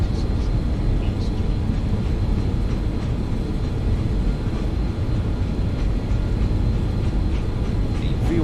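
Steady, loud broadband roar of a Just Flight BAE146 airliner's jet engines at takeoff power in the X-Plane 11 flight simulator, continuous throughout with no break.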